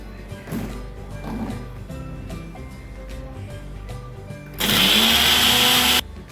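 Kitchen blender grinding green chilli and mint leaves for pani puri water, a loud steady whir bursting on for about a second and a half and then stopping abruptly, after quieter kitchen clatter.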